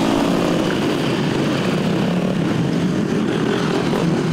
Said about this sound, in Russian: С 8 утра здесь не утихают моторы.